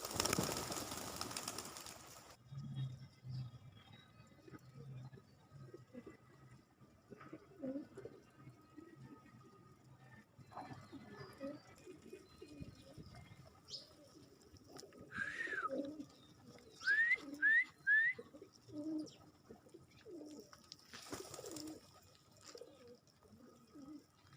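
Pigeons feeding, with soft low cooing and bird calls scattered through a fairly quiet scene, a few brief sharp chirps and occasional light drips or clicks nearby.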